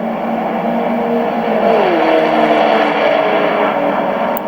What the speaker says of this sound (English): I found this car race clip that I thought would work well.